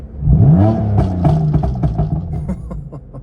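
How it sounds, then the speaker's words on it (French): A BMW M3 engine revs up close, rising in pitch then settling into a throaty burble with sharp crackles. "Écoutez le son moteur les gars."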